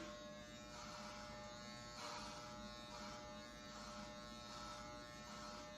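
An electric hair trimmer cutting a man's hair at home gives a steady, close, continuous buzz that holds evenly throughout with no talk over it.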